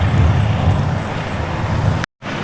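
A Prevost bus drives through a cone course during a DMV driving test, a steady low engine and road rumble that holds loud and close, then cuts out briefly near the end before resuming.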